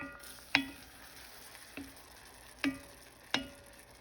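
Fideuà pasta fries in a pan as it gets stirred, a quiet sizzle underneath with four distinct sharp clicks from the utensil striking the pan at uneven intervals.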